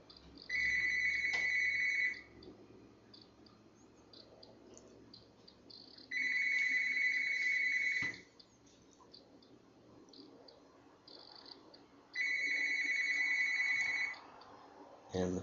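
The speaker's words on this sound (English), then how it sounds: "And the phone is ringing in the background." A telephone rings in the background in three separate bursts, each about two seconds long and spaced roughly six seconds apart, fairly faint over a low room hum.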